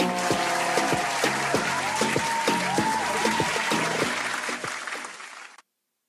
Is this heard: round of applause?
yes